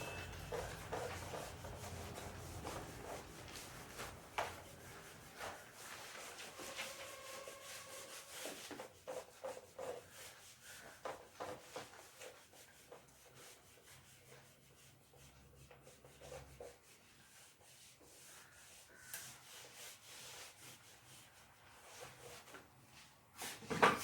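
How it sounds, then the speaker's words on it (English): A duster rubs a classroom board clean in long, continuous scrubbing strokes that rise and fall in intensity, moderately loud and close, with no one talking over them. "that I will be doing after rubbing the board"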